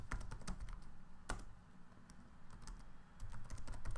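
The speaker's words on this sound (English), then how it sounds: "type in a title" Computer keyboard typing comes through as a quick, uneven run of soft key clicks at close range, with faint room noise underneath.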